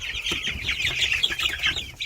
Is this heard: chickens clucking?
yes